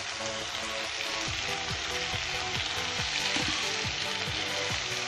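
Pork with sesame seeds fries dry in a pan, giving a steady, close, hissing sizzle with occasional soft crackles throughout, no talking.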